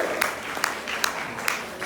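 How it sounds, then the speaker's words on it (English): Audience applause at a school foreign-language prize giving, fairly quiet and diffuse, with a few sharper individual claps standing out at a steady interval. "Stand up here, applaud each other."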